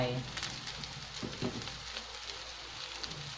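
Mushrooms sizzling in a pan as textured soy protein is tipped in, a steady broadband fry with a brief low thump and clatter near the start and middle, close and moderately loud, with a faint voice early on.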